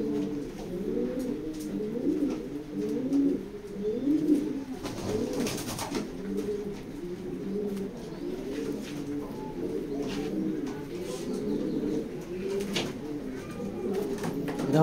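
Racing pigeons of a maxi breed at a loft coo repeatedly in soft, rhythmic rolling phrases close by, several birds overlapping with faint rustling and wing flutters throughout.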